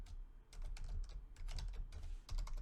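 Quick bursts of keystrokes on a computer keyboard as a Linux grep command is entered, close and clear, with short irregular pauses between clusters of clicks.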